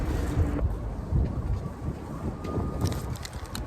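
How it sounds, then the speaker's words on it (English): Strong wind roars and buffets the microphone in a continuous, loud rush with gusting surges at an exposed outdoor spot. "it's so incredibly windy"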